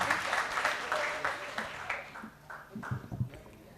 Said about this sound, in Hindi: तालियों से इस्तकबाल करें डॉक्टर सरिता जैन जी।